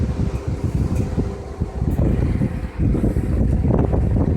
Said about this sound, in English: Yeah, you can hear them bearings and that fan grinding.